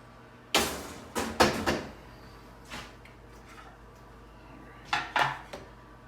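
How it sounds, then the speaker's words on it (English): A skillet is grabbed in a home kitchen while making country biscuits, heard as a few sharp metallic clanks and knocks of cookware, spaced irregularly with quiet gaps between them. "let's go ahead and grab our skillet"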